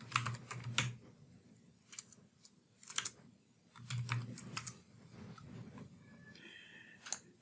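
Someone types on a computer keyboard. Quiet, close keystrokes come in irregular bursts with brief gaps, and no one speaks.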